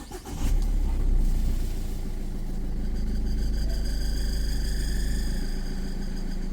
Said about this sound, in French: je vais démarrer le véhicule. Je vais la laisser tourner.